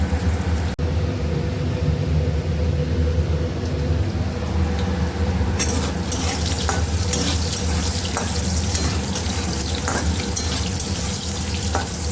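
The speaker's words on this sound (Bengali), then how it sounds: "মাছটাকে আগে ভালো করে ভেজে নিই" Fish fries in a pan in a home Bengali kitchen, a dense, continuous sizzle close to the ear with faint clinks and stirring scrapes sprinkled throughout, and no one talking.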